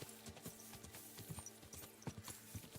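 Horse hooves clip-clop steadily in the medieval game Kingdom Come: Deliverance, a quick, even rhythm of close, distinct beats over faint background ambience.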